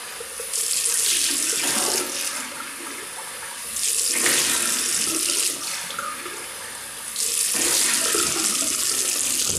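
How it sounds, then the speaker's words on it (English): Warm tap water runs in three steady bursts with short pauses between them, a close, hissing flow like rinsing under a faucet after shaving. "And I'll just rinse off with warm water."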